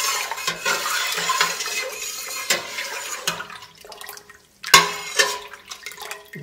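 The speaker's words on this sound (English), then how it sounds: "we're just going to go ahead and get it all in there, mixed up." A spoon stirring a bronze muscadine grape wine mixture in a container, with wet sloshing and clinking scrapes in irregular bursts and a short pause before a louder splash, close and alone without talk.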